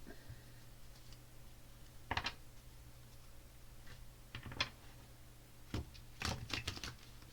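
Marseille tarot cards are shuffled in the hands, giving a few short, crisp riffles and flicks in separate bursts over a quiet, faintly humming room.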